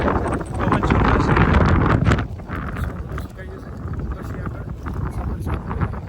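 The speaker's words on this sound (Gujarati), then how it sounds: "પવન મસ્ત છે, એકદમ ખુલ્લું છે." Wind gusts across an open hilltop at Junagadh, roaring against the microphone in a loud, steady rush that eases a little after the first couple of seconds.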